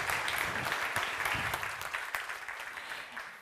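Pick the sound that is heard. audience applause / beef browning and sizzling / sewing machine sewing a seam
audience applause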